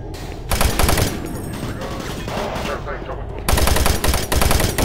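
Rapid automatic gunfire from the video game Doom 3 rattles loudly and continuously in dense bursts, swelling at the start and again near the end.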